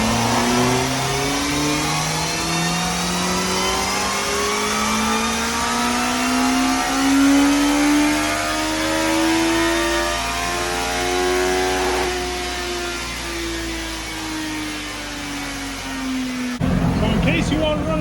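A 2022 Suzuki Hayabusa with a Brock exhaust and de-restricted ECU, revving close by: the engine note climbs steadily in a long sweep, holds near the top, then drops before a sharp burst at the end.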